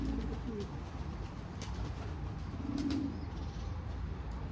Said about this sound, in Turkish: Şu an nereden baksan bir yerde 25-30 tane kuş var.